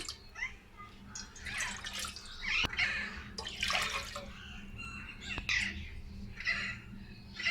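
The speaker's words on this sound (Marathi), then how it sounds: "पहिल्यांदा आपण पिठाला उकळी देऊया. पाणी घालूया." Water splashing and gurgling as it pours into a pot with flour, in uneven surges with a couple of sharp clinks.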